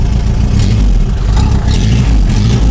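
A Lada Zhiguli engine revs loudly and steadily as the car pulls forward, a dense low rumble filling the whole moment with no voices.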